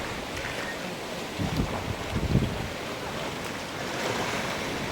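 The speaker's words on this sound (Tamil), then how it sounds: "இது பியூட்டிஃபுல் பீச் கண்ணூரில் தொட்டடு பீச் அப்படின்னு பாருங்க." Surf washing onto Thottada beach in Kannur, a steady broad roar of waves mixed with wind buffeting the microphone, swelling slightly midway.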